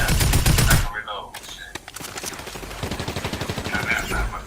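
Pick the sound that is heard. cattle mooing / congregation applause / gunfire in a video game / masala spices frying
gunfire in a video game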